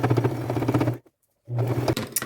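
A sewing machine stitching around the edge of a bag made from upcycled materials, a loud close rapid mechanical whir that stops briefly for about half a second, then starts again.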